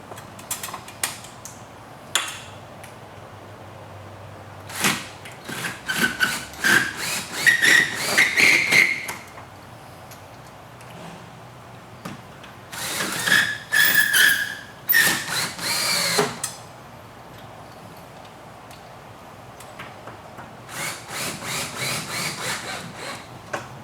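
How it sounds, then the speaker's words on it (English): A power drill runs screws into a Bahama shutter in short bursts, whining and rising in pitch as each screw seats, with quiet gaps between three separate drilling runs. "run in our remaining screws"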